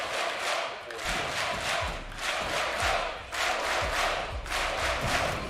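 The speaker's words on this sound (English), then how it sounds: "This crowd have been incessant today. Absolutely unbelievable noise inside." Loud esports arena crowd at the Six Berlin Major grand final, a continuous roar of cheering and chanting with periodic surges and rhythmic thuds, nearby and sustained throughout.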